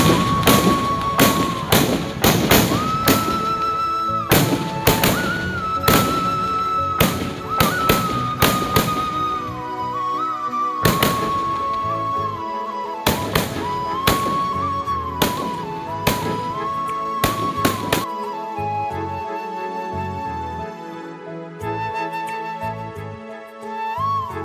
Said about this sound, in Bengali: আতশবাজি প্রদর্শনী চলছে।